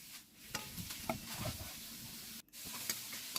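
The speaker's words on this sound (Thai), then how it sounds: "ผัดกะเพรานี่ผัดไฟแรงได้เลยนะคะ แต่ว่าเราต้องคนเร็วๆนะ" Minced pork stir-fried over high heat with holy basil, Thai garden chilies and Thai garlic, giving a steady close sizzle broken by quick scraping stirs of a spatula in the pan, with no talking.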